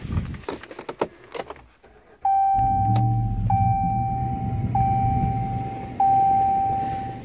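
A 2014 Ram 1500 key fob is used to lock and unlock the truck and set off the panic alarm. A few sharp clicks and clunks are followed by a steady, loud alarm tone that carries on with short pulses to the end.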